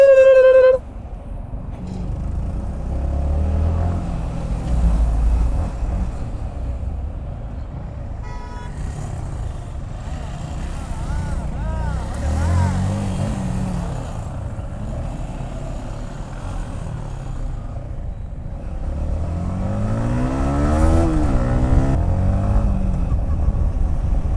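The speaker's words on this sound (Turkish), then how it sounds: "Aa, arabalar." Cars passing on a road in Quba, heard from a moving motorcycle: steady loud engine and wind rumble throughout, with vehicles swelling past around the middle and again near the end, and a short horn toot at the start.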